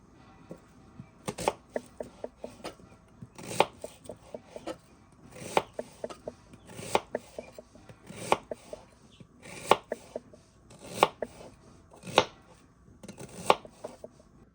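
Knife chopping sliced onion on a cutting board for French onion soup, about a dozen crisp, evenly spaced chops at close range, with no talking.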